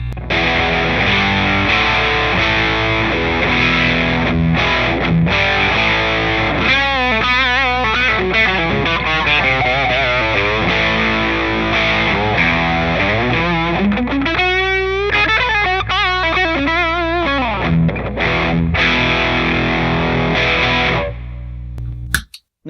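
Heavily distorted electric guitar through a pedal fitted with 1N192 diodes set to hard clipping, loud and saturated, with sustained chords and single-note runs bending and sliding throughout, no talking.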